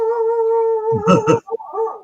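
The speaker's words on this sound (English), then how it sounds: "My dog let me know we got some people here" A dog announcing arriving visitors with a drawn-out howling whine that breaks into a few short yips and whimpers, loud and close, alone without talk.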